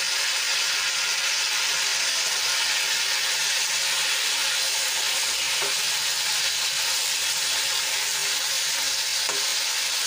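Tomatoes sizzling in a hot pan alongside cashews and onions while a capsicum gravy is cooked: a steady, close, continuous hiss and crackle with no voices.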